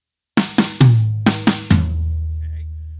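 A drum fill on snare, rack tom and floor tom: six sharp hits in two quick groups of three, the last low tom strikes ringing out with a long boomy sustain, played alone and close.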